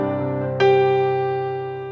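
Edited grand piano voice on a Yamaha PSR-E463 keyboard at full volume: a sustained chord rings, a fresh key strike lands partway through, and the notes then decay slowly.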